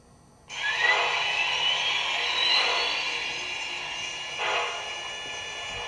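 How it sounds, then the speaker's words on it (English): An MTH GS-4 Proto 3 model steam locomotive's sound system switches on abruptly after silence, giving a steady bright hiss-like wash with a faint rising whistle-like tone and a brief swell near the end, close and fairly loud. "the locomotive sound start up at 11 volts"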